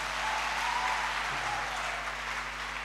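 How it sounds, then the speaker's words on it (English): Congregation clapping during a Sunday church sermon, a soft, even wash of applause sitting over a steady low hum from the hall's sound system, fairly distant and unchanging. "clap for him once again."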